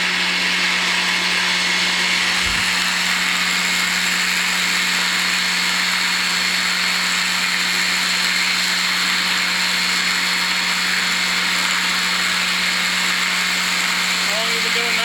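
Loud, steady roaring suction of a septic pumping truck hose drawing waste from a tank, a constant rushing drone lasting throughout without a break.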